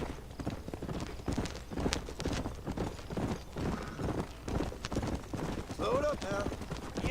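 Hooves clip-clop steadily as a horse is ridden along in Red Dead Redemption, a rhythmic run of hoofbeats with a brief whinny and talk over the top.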